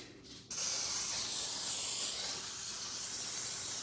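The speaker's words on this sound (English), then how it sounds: "I'm going to put some Pam cooking spray on the turkey to hold the seasonings on" A can of Pam cooking spray hisses onto a turkey in one long, steady burst after a short quiet start, loud and close.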